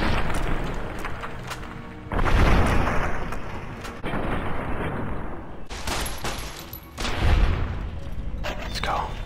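In Fallout New Vegas, dynamite blasts boom heavily, with a couple of big detonations rising out of a dense stretch of rapid gunfire, all loud and close.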